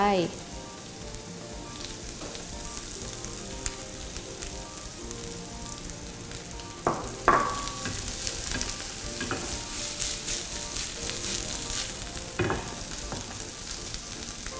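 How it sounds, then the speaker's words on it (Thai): Spinach is added to a pan of softened onions and stir-fried, giving a continuous soft sizzle with scraping stir strokes and a few sharper clatters, close by and without talk. "ตอนนี้หอมของเราก็เริ่มสุกแล้วนะคะ ก็จะใส่ผักโขมลงไป"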